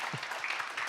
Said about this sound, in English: I think this applause will be for you for now.